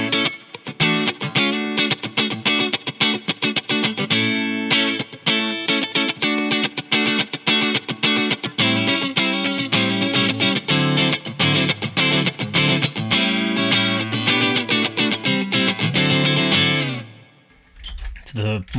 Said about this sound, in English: I think we're currently on the Fender Deluxe Reverb sound